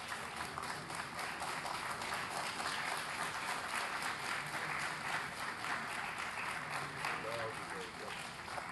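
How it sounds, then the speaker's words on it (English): A council chamber audience at a New Orleans City Council meeting applauds facilitators and judges as they stand. Dense, steady clapping continues evenly throughout. "Now for another round of applause"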